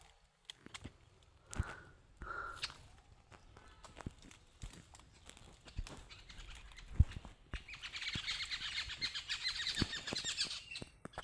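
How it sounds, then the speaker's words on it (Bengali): Wild birds chirp in Bhawal forest, a natural woodland on flat land, with scattered calls and soft clicks at first, then a dense, steady high chatter of many birds through the second half. "পাখির শব্দ"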